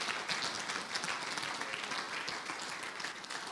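Church congregation applauding steadily, a dense wash of many hands clapping throughout, fairly distant and even in loudness, with no talk over it.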